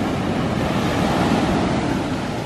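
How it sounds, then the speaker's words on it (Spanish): Large ocean waves break and surge at Cocoa Beach, Florida, a loud, continuous roar of surf with wind buffeting the microphone and no voices. "Miren cómo baja el agua ahora, miren esa ola que grande."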